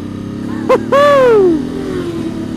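Superbikes race fast along the Mugello pit lane. A short engine blip is followed by a loud, close pass-by whose high whine drops sharply in pitch as it fades away over a low background rumble.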